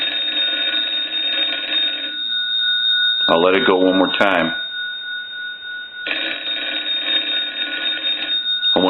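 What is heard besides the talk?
Western Electric 323 candlestick telephone bell box ringing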